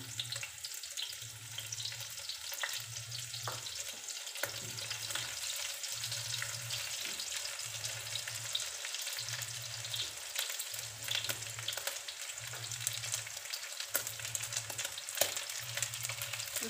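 Dried shrimp sizzling in a pan of hot oil for Taiwanese-style mie goreng, a steady crackling fry throughout, with a low rhythmic hum pulsing underneath.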